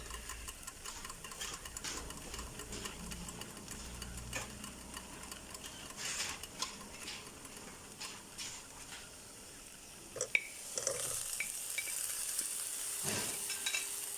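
Beef for German goulash frying in a pot, a quiet steady sizzle with crackling ticks and occasional stirring clatter, heard alone at close range.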